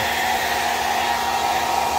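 A hair dryer runs steadily and loudly throughout, heating an excavator part, a constant close whooshing roar with a whining motor tone.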